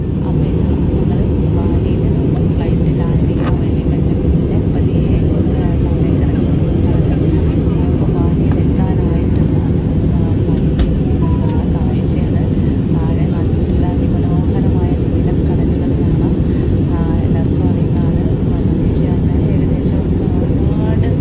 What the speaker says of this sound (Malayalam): അപ്പോൾ ഇതാ ഞങ്ങൾ മലേഷ്യയിൽ നിന്ന് ബാലിയിലേക്ക് പറക്കുകയാണ്.